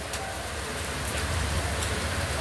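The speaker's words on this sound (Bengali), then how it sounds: "এত বৃষ্টি, একদম বৃষ্টি আর বৃষ্টি গাইস" Heavy rain falls under a dark sky, a steady, even hiss of downpour that stays constant and moderately quiet throughout, with no voices.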